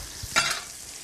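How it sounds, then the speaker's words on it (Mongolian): Meat and vegetables fry in a hot pan during home cooking of a chicken breast dish, a soft steady sizzle with one brief stirring scrape that lifts the hiss for a moment, close and quiet, no talk. "За ингээм махаа шарж хоорондоо бол одоо ногоогоо шаръя."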